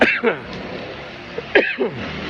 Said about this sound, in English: I'm coughing my brains out.